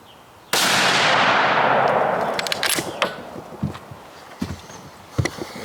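A single rifle shot from cheap .308 ammunition outdoors, a loud sharp crack with a long rolling echo tail, followed by scattered mechanical clicks and light knocks.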